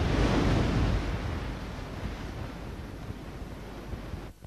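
Sea waves breaking on the Atlantic coast at Mumbles, Swansea Bay, a heavy wash of surf that swells loudest at the start, then settles into a steady broadband rush with wind noise.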